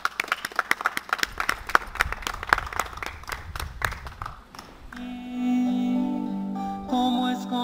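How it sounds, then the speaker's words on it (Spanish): A church congregation claps together during a service, a dense burst of applause lasting about five seconds before it gives way to sustained musical tones. "Un fuerte aplauso para Jesús en esta noche."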